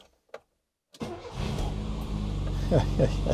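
A couple of faint clicks, then an old Austin Metro engine, with choke pulled, cranks and catches after years standing unused, settling into a loud, rough idle that revs slightly near the end.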